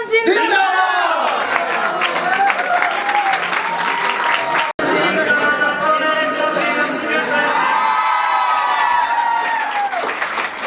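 A crowd of students at an Independence Day school celebration cheers and applauds loudly, sustained clapping with whoops and shouts close by, a brief cut midway, and voices calling out throughout.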